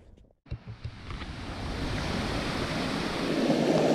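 A mountain waterfall in dense forest near Rishikesh gives a steady, broad rushing roar that swells gradually and grows louder, after a few brief footstep-like knocks at the start.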